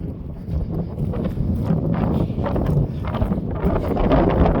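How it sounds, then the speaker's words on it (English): Wind gusts across an open field and buffets the microphone, a loud, continuous low rumble with uneven surges throughout and no talk. "This spot's getting quite windy."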